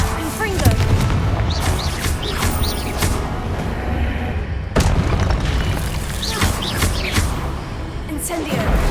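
Confringo explosion spell in the video game Hogwarts Legacy: loud, booming blasts and crackling impacts over a continuous roar of game action, with an abrupt burst near the middle.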